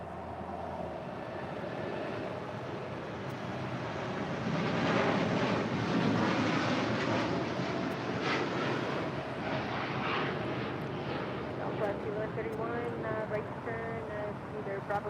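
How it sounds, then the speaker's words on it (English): An Atlas Air Boeing 747-8 freighter departing LAX for Seoul gives a loud, sustained jet engine roar that swells and holds, heard from a distance with wind noise and no speech over it. "This is Atlas Air Giant 8133 departing to Seoul on a 747-8 freighter"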